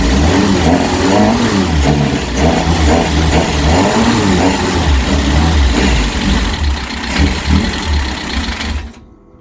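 A rebuilt engine in a Reliant Supervan starts for the first time with its exhaust fitted and runs loud and close with a steady, lumpy idle and a few slight rises in revs before it cuts off abruptly.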